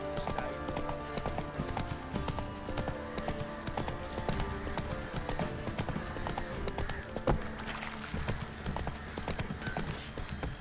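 Horse hooves clip-clopping in The Witcher 3 video game, a rapid, continuous rhythmic clatter of hoofbeats close by with faint game ambience underneath.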